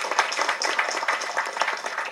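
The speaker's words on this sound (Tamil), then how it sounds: "கணேஷ் மாஸ்டருக்கு வந்து தயவு செஞ்சு ஒரு கைத்தட்டல் கொடுங்க" A live audience claps steadily for fight master Ganesh at an event honoring actor Vishal, the dense, even patter of many hands carrying on throughout without any voices over it.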